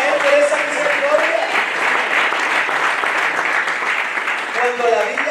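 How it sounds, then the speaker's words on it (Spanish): Sustained congregation applause in a church during a sermon, dense steady clapping throughout with a few voices rising through it. "¿Será que le damos un aplauso a Él por esa misericordia?"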